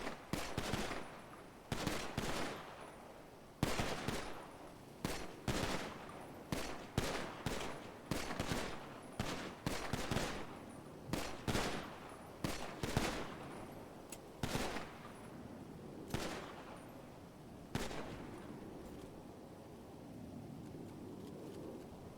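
Gunfire volley in a roleplay video game: a series of sharp, separate shots spaced about a second apart, each with a short echoing tail, fading into low rumbling ambience near the end.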